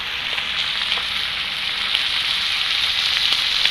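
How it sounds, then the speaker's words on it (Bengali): Chicken fries in a pan with turmeric powder, a steady close sizzle that stays loud and even throughout, with faint crackles and no talking. "এবারে চিকেনটা আমি ফ্রাই করে নেব"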